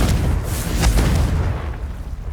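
Confringo explosive spell going off in Hogwarts Legacy, a loud, heavy boom with a rough crackling blast that rolls and fades over a couple of seconds, no voices.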